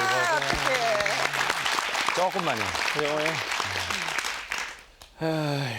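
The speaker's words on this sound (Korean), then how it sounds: "박수를 한번 부탁을 조금만" Studio audience applause runs beneath someone talking on a TV talk show, a steady bed of clapping under his voice that drops away briefly near the end before the talking resumes.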